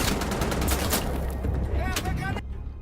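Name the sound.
gunfire from video game Wolfenstein: The Old Blood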